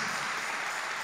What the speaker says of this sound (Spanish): Dale el aplauso fuerte